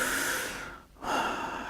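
Two deep breaths in and out, close and clear, a long inhale followed by a brief pause and a second breath, with no talking over it.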